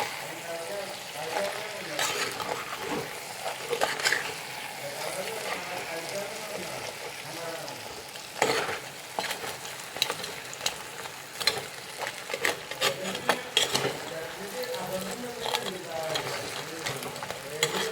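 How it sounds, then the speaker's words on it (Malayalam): Crab curry frying in a pan while being stirred, a steady sizzle broken by clattering scrapes that grow busier in the second half, close and moderately loud. "ഇത് നമുക്ക് നന്നായിട്ട് ഇളക്കി കൊടുക്കണം."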